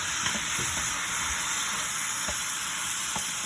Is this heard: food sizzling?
yes